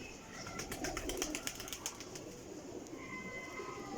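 Female breeder pigeons coo close by in Jhelum, soft repeated throaty calls over a steady murmur of background noise.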